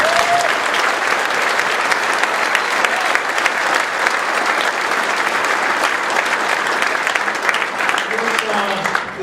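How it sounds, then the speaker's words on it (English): Sustained, loud applause from a large audience at a gathering for Marines and sailors, dense steady clapping filling the whole stretch, with faint crowd voices underneath near the end. "just give them a full round of applause"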